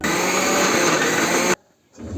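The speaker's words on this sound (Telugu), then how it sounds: "ఇది కొంచెం మిక్సీకి పట్టుకోవాలి" A kitchen mixer grinder whirs loudly as it blends tamarind chutney, runs steadily for about a second and a half, cuts off abruptly, then starts spinning up again.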